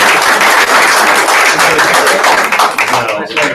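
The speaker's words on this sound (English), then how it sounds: "Let's give Dee a nice round of applause" Applause from the audience at a sales meeting, a dense, steady wash of many hands clapping that fills the room for several seconds before tapering off near the end.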